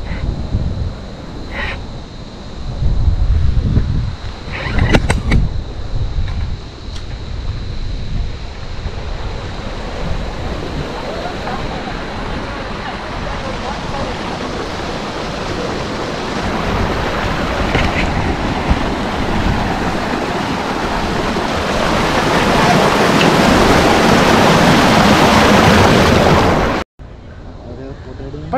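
Boat ride on the river at Hogenakkal: continuous rushing water and wind buffeting the microphone, building louder over the ride, with a few bumps near the start and voices occasionally talking.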